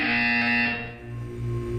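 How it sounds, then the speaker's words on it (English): A loud, sustained electronic buzzer tone from the video game Portal 2, with a harsh, distorted edge, sounding continuously and shifting slightly in pitch midway through. "When you hear the buzzer, look up at the ceiling."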